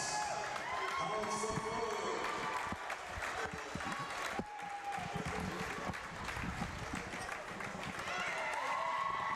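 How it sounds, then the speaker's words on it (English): Crowd applause and cheering in a gym during a senior-night recognition at a high school wrestling match between Plum and Gateway, continuous and reverberant while an announcer speaks over the PA. "Big round of applause."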